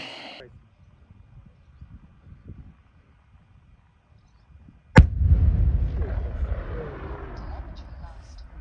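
An FPV drone strikes a target, setting off one sharp, loud explosion after several seconds of quiet low rumble, then a long decaying roar and crackle. A voice is heard briefly at the very start.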